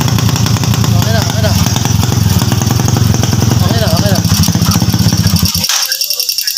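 A motorcycle engine runs loud and close with a fast, rattling sputter of rapid backfire pops, steady throughout before cutting out abruptly near the end.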